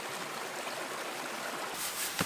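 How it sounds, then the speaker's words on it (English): A creek flows down behind a riverside campsite on the French River, giving a continuous, soft rushing hiss of moving water with a small splash near the end and no talking. "With the creek flowing down behind us."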